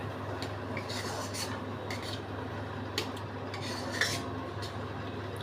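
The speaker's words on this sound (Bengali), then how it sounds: "এবার মিশিয়ে একটু বড় আঁচ খাইয়েই ব্যাস হয়ে যাবে" Mustard paste being stirred into prawns and pointed gourd in a pan, with soft repeated scraping and clinks of a utensil against the pan over a steady low hum, fairly quiet and without talk.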